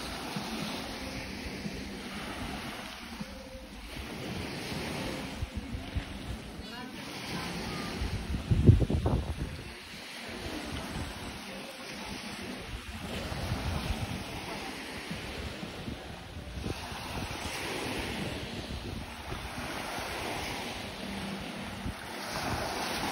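Sea waves wash onto a beach at Anda, Bohol, a steady surf rush blended with strong wind buffeting the microphone and a brief louder thump partway through.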